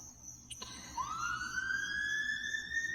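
An ambulance siren at night outside a hospital emergency room, a faint wailing tone that starts after a short click and slowly rises to a steady pitch.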